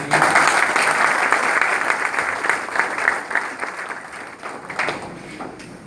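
Audience applause breaks out at a gathering for a tulsi-planting drive in Rajasthan, dense steady clapping that stays loud for several seconds before thinning toward the end.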